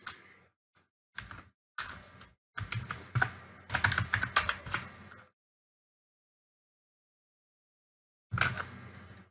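Someone types on a computer keyboard to enter text in Canva, tapping in short bursts and then a longer run of quick, close keystrokes, followed by a few seconds of silence before another burst.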